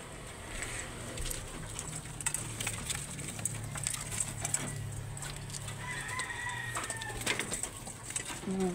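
Several pigeons in a loft coo softly nearby, low throaty calls overlapping with faint rustling and scattered clicks in the background.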